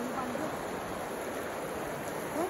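Fast-flowing floodwater rushes near a Garjia Devi temple, a steady, dense roar of moving water. Voices speak faintly over it.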